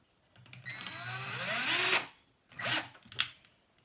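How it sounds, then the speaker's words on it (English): A power drill pre-drilling into melamine whirs up in pitch for about a second and a half, then stops; two shorter bursts follow, close and fairly loud. "So I pre-drill just a little because the melamine is quite strong."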